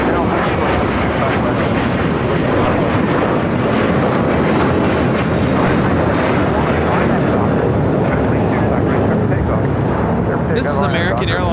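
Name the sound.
American Airlines A321 taking off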